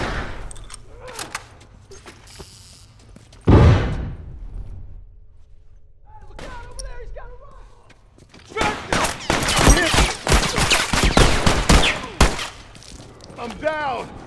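Rifle gunfire in the video game The Last of Us erupts in a sustained dense volley after a quieter stretch, loud and close, with voices calling out in between.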